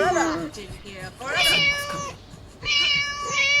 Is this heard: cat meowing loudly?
yes